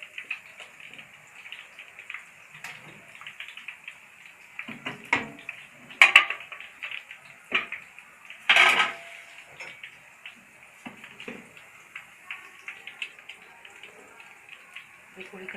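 A metal strainer scrapes and clinks against a pan while scooping fried boondi out of hot ghee, with scattered light metallic taps and two louder clanks, a steady frying hiss underneath and occasional quiet talk.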